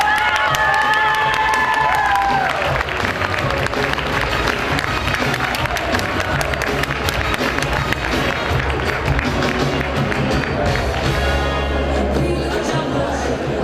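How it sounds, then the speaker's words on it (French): An audience at the Miss Beaujolais 2011 pageant gives a pageant candidate sustained, loud applause and cheering, a dense wash of clapping and shouts with a brief musical tone at the start. "Applaudissez-la très très fort."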